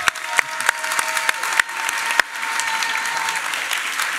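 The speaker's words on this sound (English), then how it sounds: "Claps for Tim Harris, please." A live audience at a cycling podcast recording at the Rouleur Classic breaks into loud, sustained applause, with sharp individual claps standing out early before the clapping settles into a dense, even roar.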